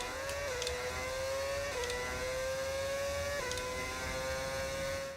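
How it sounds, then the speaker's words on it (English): A modded Benetton car's V10 engine in the racing game F1 25 drones at a high, steady pitch, climbing through gears with three brief shift dips, moderately quiet and continuous with no talking. "why does it sound like a V10?"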